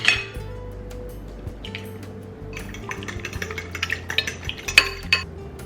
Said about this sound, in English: we are going to make an egg wash